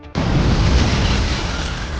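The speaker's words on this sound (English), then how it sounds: "Seconds later, 3 consecutive explosions rocked the store." A sudden loud blast erupts inside a supermarket after a brief quiet moment, followed by a sustained roaring rumble of debris and noise, from the film Sicario.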